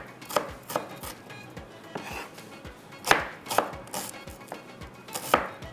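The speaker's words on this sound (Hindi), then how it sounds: "इतनी देर में प्याज कटिंग कर लेते हैं, थोड़ा चॉप करके डालेंगे।" A knife chops onions on a board in a home kitchen with sharp, irregular thuds in short bursts. The cuts are close and distinct and sound alone, with no talking.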